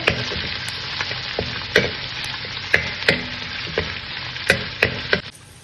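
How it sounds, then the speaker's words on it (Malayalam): Bay leaf, cinnamon, cloves and cardamom sauté in a pan with a dense, steady sizzle, punctuated by regular sharp taps of a spoon stirring against the pan, before the sound cuts off near the end. "ബേ ലീഫ്, പട്ട, ഗ്രാമ്പു, ഏലക്കി ഒന്ന് ചെറുങ്ങനെ ഒന്ന് സോട്ട് ചെയ്ത് വെട്ടെ."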